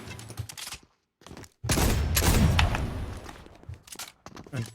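Flintlock pistol shots in the Fortnite video game, a burst of loud, close gunfire bangs with a brief silent gap before a second, longer volley, then scattered smaller bangs.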